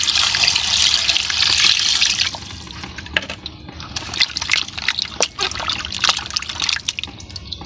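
Fish being rinsed under a running tap while preparing a Filipino dish: a steady stream of water pours and splashes, loud and close for the first two seconds, then softer trickling with irregular sloshes and drips.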